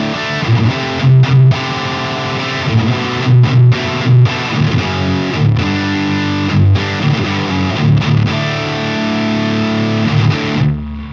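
Heavily distorted, high-gain electric guitar through the Neural DSP Omega Granophyre plugin plays chugging chords and sustained notes, loud and saturated, ringing out alone.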